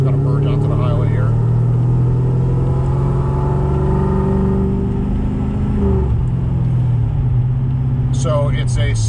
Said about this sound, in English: Just got to merge onto the highway here.